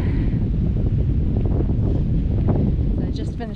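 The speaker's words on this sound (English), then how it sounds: "it's cold outside and it's windy at the shelter here on the ridge" Strong, cold wind at a shelter on a ridge in the Smoky Mountains roars and buffets the microphone in a loud, constant rumble that continues without a break for the whole stretch.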